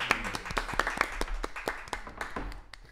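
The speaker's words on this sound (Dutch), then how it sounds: "Applaus voor Patrick en Tim!" A small group in a podcast studio claps for a director and cameraman, sparse, distinct hand claps at close range with an uneven rhythm, fairly quiet over a low background hum.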